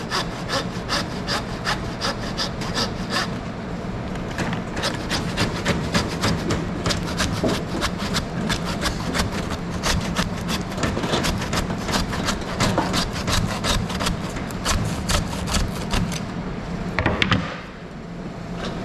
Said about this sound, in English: a longer handsaw is handy